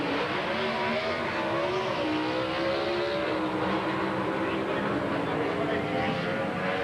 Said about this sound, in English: Jeter almost perfect out of the gate, and Larry Kopp just had enough Jenkins power to run him down.